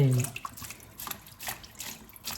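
Water runs and splashes as freshly cut vegetables are rinsed and left soaking, with a faint, soft trickle and a few clinks and brief touches of background voice.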